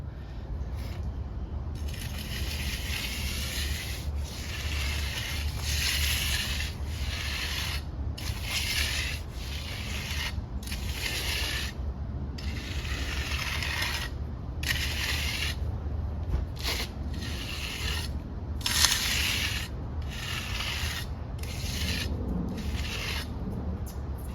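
A hand float smooths a freshly poured concrete slab for a pool deck extension, making steady rhythmic rasping sweeps across the wet surface, close and continuous with no talking.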